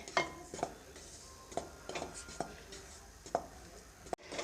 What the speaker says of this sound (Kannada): ನಾನು ಗ್ಯಾಸನ್ನು ಲೋ ಫ್ಲೇಮಲ್ಲಿ ಇಟ್ಬಿಟ್ಟು ಹಿಟ್ಟನ್ನು ಹುರ್ಕೊಳ್ತಾ ಇದ್ದೀನಿ